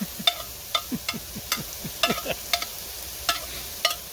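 Garlic-buttered bread frying in a pan in an RV kitchen, with a soft sizzle beneath a series of quick scraping and tapping strokes from a utensil, roughly two per second.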